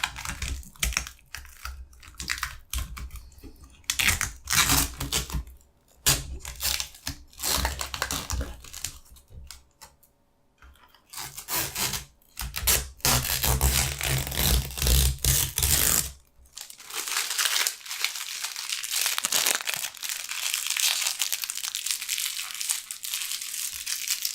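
A plastic protective cover is peeled off an XFX RX 590 graphics card. Close, crisp crackling and crinkling comes in dense bursts with brief pauses, then builds to a longer continuous stretch, with no talking.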